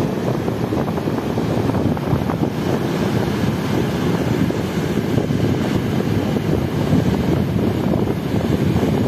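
On the Quiberon coast, sea waves and strong wind roar steadily and loudly in a constant broadband wash, with gusts buffeting the microphone and no voices.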